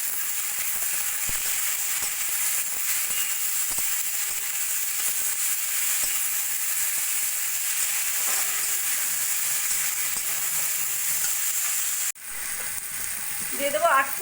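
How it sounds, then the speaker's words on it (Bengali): Onions fried golden with chopped tomatoes, salt and turmeric sizzle loudly and steadily in the pan, with a brief break near the end as the hiss shifts and bubbles up again. "পেঁয়াজ সোনালি করে ভেজে নিয়ে দিয়ে দেবো আমি কেটে রাখা টমেটো।"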